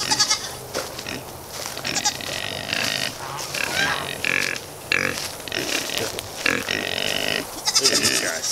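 Pigs grunt and squeal in bursts, close by, with a little background noise between the calls.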